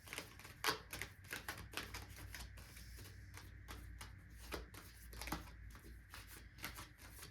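Tarot cards are shuffled close up in quick, crisp riffling and tapping bursts, soft and intimate, with no talking over them.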